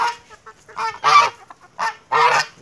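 A goose on a farm with roosters gives a series of loud, nasal honks in quick irregular bursts, close to the microphone, with no talking over it.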